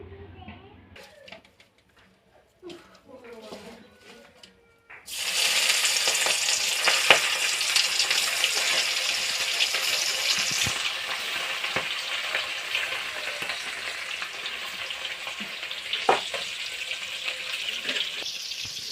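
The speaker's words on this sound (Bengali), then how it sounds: "তো বন্ধুরা দেখো মাছগুলো ভাজতে দিয়ে দিয়েছি" Small mourala and puti fish drop into hot oil in a wok, and the quiet kitchen bursts into a loud, continuous crackling fry that keeps going steadily, with a few pops and a voice speaking early on.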